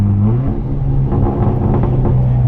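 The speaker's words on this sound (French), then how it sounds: "Je pense que vous avez rarement entendu une voiture qui fait autant de bordel." A small car with an extremely loud engine rumbles close by, a heavy, rough idle with a brief rise and settle in pitch, booming and coarse throughout.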